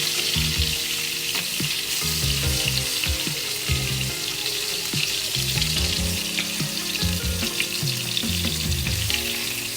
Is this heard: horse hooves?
no